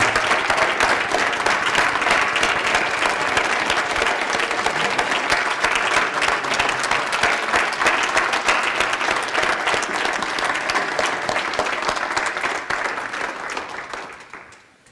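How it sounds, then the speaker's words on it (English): A room of guests at a veterans appreciation dinner gives loud, sustained applause, dense and even for most of the stretch before tapering off at the very end. "let's give them another round of applause"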